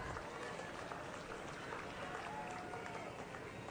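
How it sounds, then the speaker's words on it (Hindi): Dense, steady applause from a political rally crowd fills the stretch evenly at a moderate distance, a continuous wash of clapping with no pauses or audible talk. "तालियां एक बार जोरदार।"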